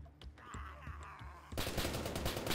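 Gunshots in the video game DayZ, a few faint pops followed by a sudden louder, dense burst of rapid fire in the last second.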